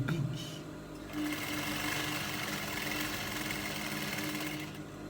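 A sewing machine stitches the side seams of palazzo trousers and a cowl neck top, running in one steady, rapid mechanical whir from start to finish at close range.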